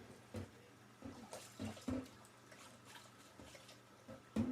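A kitchen tap runs during dishwashing, a thin watery stream under intermittent clinks and knocks of dishes at the sink, fairly quiet and close, with no speech.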